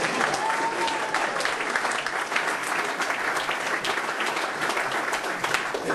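Full, steady clapping from a theatre audience at the VOA Follies stage show, a dense even wash of many hands lasting about six seconds with no break.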